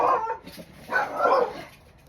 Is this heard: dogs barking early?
yes